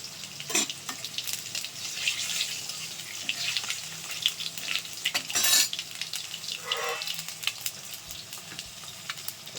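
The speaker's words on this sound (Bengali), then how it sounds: "সাদা জিরে আর শুকনো লঙ্কা ফোড়ন দিয়ে দিচ্ছি ভাজার জন্য।" Cumin seeds and dried red chillies sizzle and crackle in hot oil, with bursts of spattering and scraping spoon strokes against the pan, close and fairly loud.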